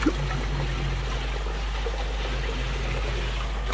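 Water flowing steadily from a pond bottom drain, a continuous moderate trickling stream with a low hum beneath it, no voices.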